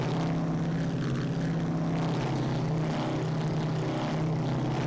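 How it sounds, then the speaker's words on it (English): Twin Pratt & Whitney piston propeller engines of a B-26K Counter Invader in the Strike Fighters 2 Vietnam flight game, a steady loud droning hum with no change in pitch throughout. "These Pratt & Whitneys don't drink fuel like a jet engine does"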